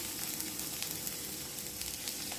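Small onions sauté in a little oil for a chutney served with idli and dosa, making a continuous close hiss and sizzle that stays even throughout, with no talking.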